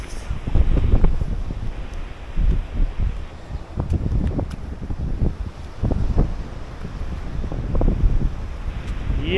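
Wind rushes past on a boat trip off Zanzibar near Prison Island, a steady close roar of buffeting gusts with faint water movement underneath, rising and easing throughout.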